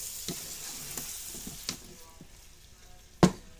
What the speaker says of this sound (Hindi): चिकन की बुनाई हो रही है जी